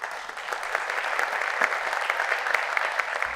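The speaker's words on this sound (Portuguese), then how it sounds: "Na plateia, diversos espectadores aplaudem a entrada dos convidados." An audience at a talk event in Itabira claps steadily for the entrance of guests Zeca Camargo and Silvana, a dense, even patter of many hands throughout without talk.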